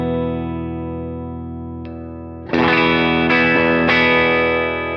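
A clean electric guitar through a Fender Deluxe Reverb amp rings out with sustained chords, then a louder strummed chord around the middle followed by a few more accented strums, slightly bright.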